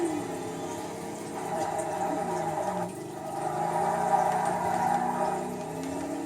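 A Ford GT40 in the Forza racing game, driven at Bathurst, revs hard with a steady engine roar that swells and dips as the throttle is worked, with no talking over it.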